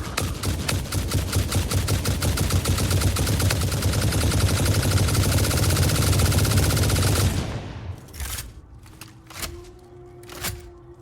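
Sustained rapid automatic gunfire at bugs in Satisfactory, loud and dense for about seven seconds, then breaking off into a few scattered single shots and rumbling echoes.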